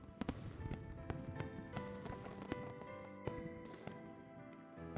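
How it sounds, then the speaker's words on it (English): Video-game fireworks bursting in a dark polar-night sky to close a music festival, a rapid run of sharp cracks and pops over a bed of game music and ambience. "The dark sky is pierced by sparkling trails as fireworks explode."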